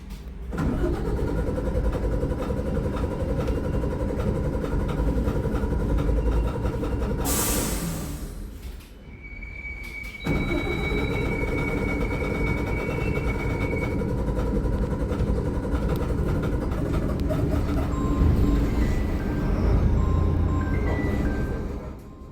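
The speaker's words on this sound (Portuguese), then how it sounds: "Depois de muito custo, o motor voltou a funcionar." A Caio Millennium IV bus engine drones steadily, cuts out briefly with a sharp noise, then rumbles again at an even idle for a long stretch.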